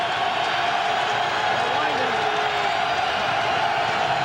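Stadium crowd at a 1997 NFL wildcard football game, Miami at New England, a loud constant roar of many voices filling the space, with an announcer talking over it.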